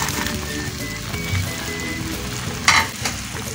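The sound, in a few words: stirring onions into chicken in a pot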